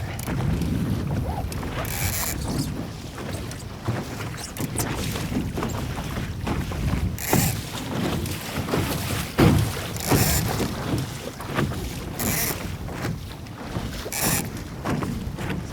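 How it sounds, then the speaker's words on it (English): Gusting wind of about 15 knots buffets a Sunfish sailboat on the water, a continuous rough rumble with recurring louder gust bursts and occasional creaks of rigging. "that's gusting, I mean, in maybe 15, or at least apparent wind 15 knots"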